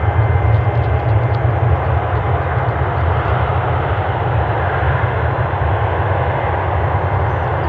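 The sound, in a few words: airliner, likely the Shannon flight departing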